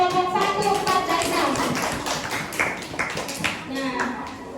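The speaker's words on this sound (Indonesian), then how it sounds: "kita beri tepuk tangan untuk perwakilan dari kelompok 1, 4, dan" Classroom students clapping for group representatives, a busy patter of many small hands at moderate volume, mixed with voices and chatter around the room.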